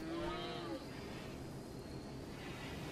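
In the colony-building game RimWorld, a single cow moo rings out at the start, a clear drawn-out bovine call lasting under a second, then fades into quiet steady ambient game background.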